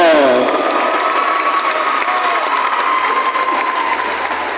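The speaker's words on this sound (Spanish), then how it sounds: "¡Fuertes los aplausos!" A crowd applauds a school marching band at a band competition: loud, dense clapping mixed with cheering that starts strong and holds steady, with a fading tonal sound from the band at the very start.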